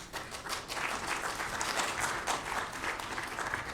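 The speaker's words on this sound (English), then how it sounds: "you can say the big round of applause for Steve when he comes up." Applause from an audience at a Nasdaq opening bell ceremony celebrating a company's anniversary, a dense, steady round of clapping filling the room for several seconds without a break.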